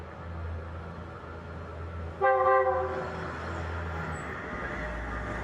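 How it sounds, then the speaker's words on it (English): A train departs Hua Lamphong station in Bangkok, giving a short horn blast of under a second over a steady, distant rumble of rail traffic and city background noise. "Now here's a train on our extreme right part of the screen coming out of Hua Lamphong station."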